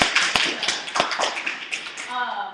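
Hand claps and taps sound close during a live stream, mixed with a talking voice. They come as a few sharp, uneven bursts over about two seconds.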